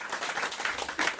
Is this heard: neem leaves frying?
no